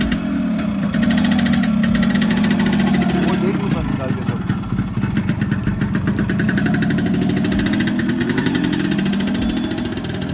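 A fully restored Yamaha RX100 two-stroke motorcycle idles close by, a loud continuous burbling engine note with slight revs, with someone speaking over it.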